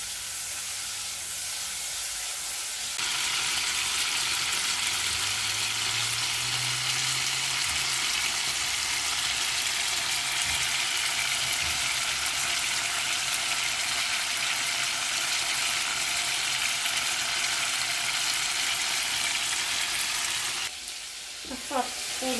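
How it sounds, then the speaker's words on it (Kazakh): Chicken sizzles in hot oil over high heat, a loud, steady frying hiss with occasional scraping stirs, close and continuous for the whole stretch. "Қатты отта жылдам араластырып қуырып аламыз."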